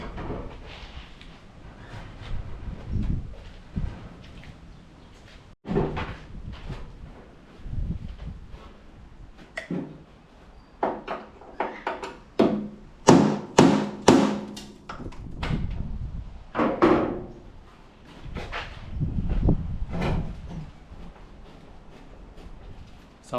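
Hammer and screwdriver knock parts out of a Holden HQ Ute during a classic restoration, with irregular metallic taps and clanks, a quick flurry of sharp strikes midway, and workshop shuffling between blows.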